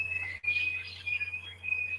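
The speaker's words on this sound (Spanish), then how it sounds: "Perdón que han vuelto locos los pericos" Parakeets chatter in repeated shrill, whistling calls, fairly close and steady across the moment, broken by one brief gap, over a constant low electrical hum.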